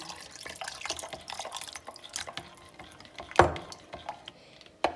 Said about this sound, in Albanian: unë ja hedha një gjys gotë ujë